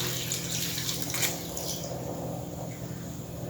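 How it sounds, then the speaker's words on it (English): Water runs in a steady, close stream as it is poured into ground masala for a Goan pork sorpotel paste, with no talking. "Add water as required"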